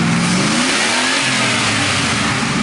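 A car engine fitted with an MSD two-step rev limiter revs hard in neutral against the 4,000 rpm limit, a loud, continuous, close-up roar with rapid stuttering pulses from the limiter.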